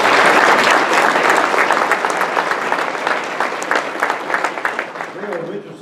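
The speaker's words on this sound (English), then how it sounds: "I think we ought to give Robert a big round of applause" Rotary club members at a business meeting give a big round of applause, dense steady clapping that carries on for several seconds, then thins and fades near the end as a voice starts to speak.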